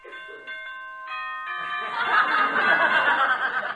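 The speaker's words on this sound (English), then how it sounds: "Here's the bell for the first round." A boxing ring bell for the first round, an old-time radio sound effect: several clear bell strikes ringing out in quick succession and building into a dense clang, with no talk over it.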